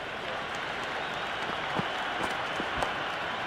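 A dense, roaring cricket stadium crowd cheers and claps steadily throughout an IPL match between CSK and MI, broad and continuous with a few faint louder bursts.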